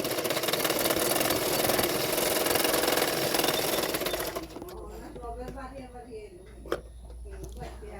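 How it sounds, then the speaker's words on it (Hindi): A sewing machine hums steadily as it stitches folded blouse fabric, then stops about halfway, leaving someone talking over quieter room noise with a brief click. "इसमें भी सिलाई कर दूंगी, और इसमें भी मैं 2-2 सिलाई कर दूंगी"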